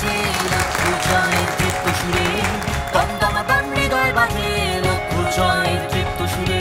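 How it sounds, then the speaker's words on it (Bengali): An audience claps loudly for a third-prize winner at the Ispahani Mirzapore Banglabid festival 2023. The steady applause runs throughout, mixed with music and a voice over the hall sound. "জোরে করতালির মাধ্যমে আমরা মনামিকে অভিনন্দন জানাতে চাই।"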